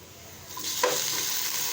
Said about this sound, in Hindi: हाई फ्लेम पे हम इसको ब्राउन करेंगे। देखिए जनाब, अब हमारी प्याज जो है वो ब्राउन होने लगी है।